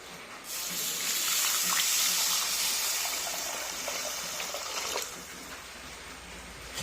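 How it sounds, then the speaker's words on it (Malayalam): Water mixed with kudampuli and salt pours into a Pathanamthitta-style fish curry in a steady gushing stream lasting about five seconds, then stops. "കുടംപുളിയും ഉപ്പും ചേർത്ത വെള്ളം"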